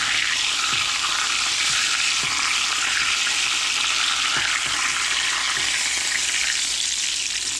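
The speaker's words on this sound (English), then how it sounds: "Like I said, it don't take long to get them fried up if you get them made." Cherry fried pies fry in a pan with a steady, close, hissing sizzle that runs unbroken throughout, with faint soft pops underneath.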